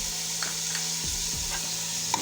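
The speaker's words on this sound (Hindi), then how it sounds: "लहसुन अदरक का पेस्ट डालना ज़रूरी होता है। कुछ देर के लिए फ्राई करेंगे।" Garlic and ginger paste fries in a pan with a loud, continuous close-up sizzle and hiss, with a few light stirring scrapes over the short stretch.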